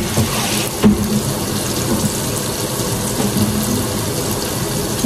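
Tap water runs steadily into a large cooking pot in a home kitchen while biryani is being prepared, a continuous broadband rush with a faint low hum beneath and no talking.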